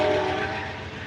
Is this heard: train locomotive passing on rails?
yes